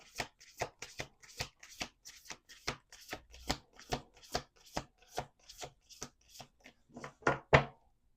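Deck of playing cards being riffle-shuffled repeatedly, a steady series of crisp ripping bursts about every half second, close and fairly loud, with the last few slightly louder, no talking.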